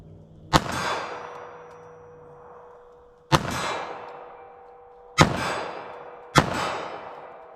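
Four sharp gunshots from a compact pistol firing .380 ACP Federal Hydrashok rounds into ballistic gel, each loud crack followed by a ringing decay, spaced irregularly over several seconds with no talk.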